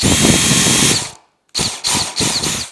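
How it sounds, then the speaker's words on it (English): Power drill boring through a wooden pantry door in an 1880 house renovation: one long loud whirring run, a pause, then three short bursts in quick succession. "I can just drill it all the way through"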